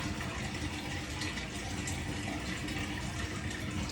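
A Fisher and Paykel CleanSmart washing machine sprays water during its rinse cycle, a dense continuous rushing hiss with a low mechanical rumble underneath, steady throughout.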